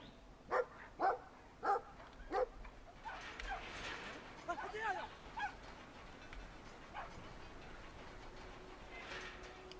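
A dog in the video game Brothers: A Tale of Two Sons barks four times in quick succession, then whimpers and whines, over ambient game noise with a voice talking.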